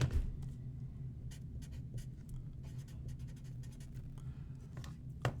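Pen or pencil scratching out handwritten digits on paper while working a chemistry calculation, a steady soft scribbling of close strokes over a low room hum, with no talking.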